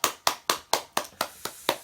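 Single person clapping hands eight times in an even, steady rhythm, each clap sharp and close with a short decay.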